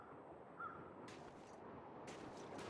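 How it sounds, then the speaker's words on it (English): Crows caw in the survival video game The Long Dark, two faint, distant bursts of calls about a second apart over a low, steady wind-like ambience. "But with there being crows, we want to go investigate"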